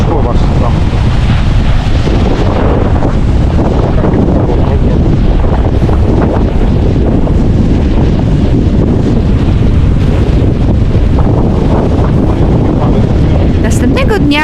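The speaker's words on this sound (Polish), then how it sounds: "Bardzo mocno dalej wiało. Fale z hukiem uderzały o skały." Strong wind buffets the microphone over Atlantic surf breaking against rocky shore at Black Point in the Bahamas, a constant loud, roaring wash with no break across the whole stretch.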